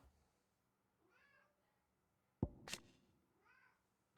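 A house cat meows several times indoors, faint drawn-out calls spaced apart, with a sharp louder clatter in the middle.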